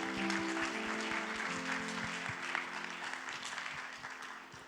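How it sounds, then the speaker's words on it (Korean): A congregation at Ansan Dongsan Church applauds in praise during a staff seminar service, a steady even patter of many hands over sustained low keyboard tones, gradually easing off toward the end. "각자의 자리에서 박수로 영광 돌리겠습니다."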